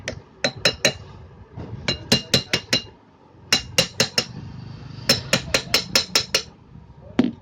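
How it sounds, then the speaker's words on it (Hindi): Light hammer taps seat a rewound air cooler exhaust motor part into place, coming as close, sharp metallic knocks in quick bursts of three to five with short pauses between. "अब इसको हल्का सा हम ठोकेंगे"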